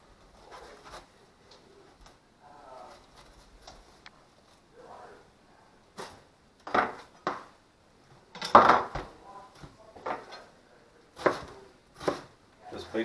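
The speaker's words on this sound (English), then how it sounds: "We also have some cabbage here. Just going to simply core this." Knife coring a head of cabbage on a kitchen cutting board while cooking borscht: several sharp cuts and thumps in short separate bursts, close and moderately loud, with quieter handling noises between them.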